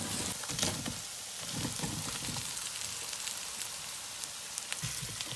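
Chili powder, white sesame seeds, minced garlic and sugar fry in a little oil in a wok. A loud, continuous crackling sizzle with dense spitting pops carries on throughout, with no voices.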